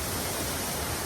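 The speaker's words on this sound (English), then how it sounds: "At the waterfalls" Steady, dense roar of a waterfall by a lake, an even hiss without breaks, moderately loud and close, with no voices.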